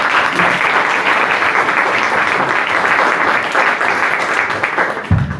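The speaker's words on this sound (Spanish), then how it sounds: "al cual le vamos a dar un fuerte aplauso." A loud, sustained burst of applause from an audience at a book presentation in a university faculty, dense clapping filling the room without pause.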